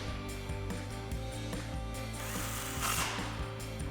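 A 10mm bolt is driven back into a brake line bracket on a Jeep Wrangler JL, with a steady mechanical tool whirr and rhythmic clicking, close and continuous.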